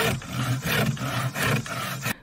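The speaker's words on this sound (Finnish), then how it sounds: "Minä sahaan lankkuja." A hand saw cuts through a wooden plank in close, loud, rhythmic strokes, with about five rasping pushes and pulls before it stops abruptly.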